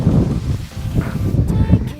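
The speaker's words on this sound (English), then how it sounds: "it is very much windy here" Wind gusts buffet the microphone outdoors on a school campus, a low rumbling roar rising and falling in short bursts, close and fairly loud, with faint rustling behind it and no clear talk.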